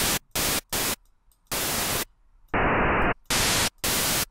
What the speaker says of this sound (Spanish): una onda senoidal modula lo que es un ruido blanco y hacemos que el ruido suba y baje de pitch